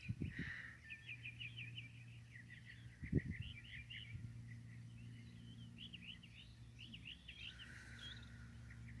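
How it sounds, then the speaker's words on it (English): Several birds chirp and warble continuously at sunrise in a lively, moderately distant chorus of short repeated calls, with a low steady hum underneath and a few soft bumps. "the birdies are very active today"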